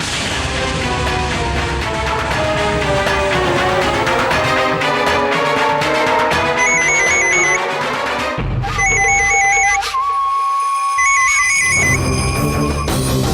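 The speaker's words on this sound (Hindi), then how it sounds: "अरे वो फोन कब तक बज रहा है, उठा क्यों नहीं लेता तू इसने?" A telephone rings in a household drama scene, repeated electronic ring tones cutting in over dramatic background music and a loud boom, the rings coming in regular bursts toward the end.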